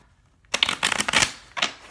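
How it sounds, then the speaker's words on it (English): A deck of cards being shuffled close by: a few quick riffling bursts of crisp, papery flutter, with short pauses between, and no voices. "One more shuffle and I think we're good."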